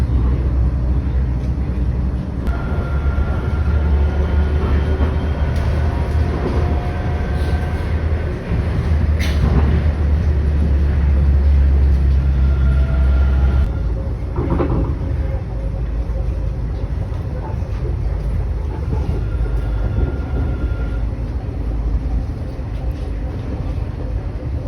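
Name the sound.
airport rail train ride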